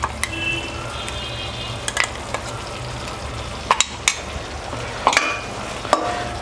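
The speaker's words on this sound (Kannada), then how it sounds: "ಇದನ್ನ ಸ್ವಲ್ಪ ಮಿಕ್ಸ್ ಮಾಡ್ತಾ ಇರ್ತೀನಿ, ಸಿಮ್ಮರಲ್ಲೇ ಮಾಡ್ತೀನಿ." Red chilli paste being stirred into simmering Gobi Manchurian sauce in a pan, a steady soft sizzle broken by scattered sharp scrapes and clicks of the spoon, close and alone without talk.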